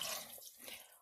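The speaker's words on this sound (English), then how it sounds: "You go ahead and fill that up with water." Water runs from a tap into a can while soup is made at home, a faint, soft splashing trickle that fades slightly midway.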